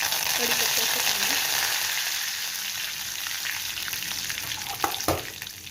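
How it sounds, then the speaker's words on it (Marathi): Mustard seeds, cumin, curry leaves and garlic crackle and sizzle in hot oil for a tempering, a steady close hiss with popping seeds and a couple of louder sputters near the end. "आपली फोडणी चांगली कडकडीत फोडणी बसलेली आहे."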